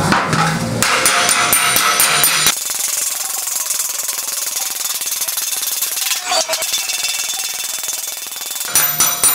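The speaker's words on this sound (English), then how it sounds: "So let's keep hammering in here." Steel hammer blows on a VW Beetle fender during widening work, dense rapid metallic impacts up front, then a steadier ringing hammering texture that continues throughout, loud and close with no voices.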